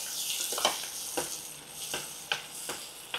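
Avakaya mango pickle fries in a pan with a soft, quiet sizzle broken by a few light clicks of a spoon against the pan. There is no talking.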